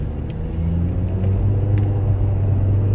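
A Nissan Juke's engine idles as it warms up after being cranked, giving a steady low rumble and hum that runs throughout and grows slightly louder partway, with a few faint clicks.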